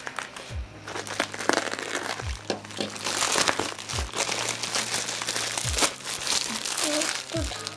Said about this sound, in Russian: И сегодня мы будем открывать посылку из Китая.